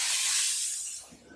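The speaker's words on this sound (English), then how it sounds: "the optimal no rinse to spray on the car" A Chief Steamer 155 (240 volt) sprays no-rinse cleaner onto the side of a car, giving one close, steady hiss that fades out over about a second.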